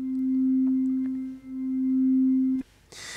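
A steady, pure low tone of a Hammond organ C3 fundamental in GarageBand holds for about two and a half seconds with a slight dip midway, then cuts off into a brief hiss.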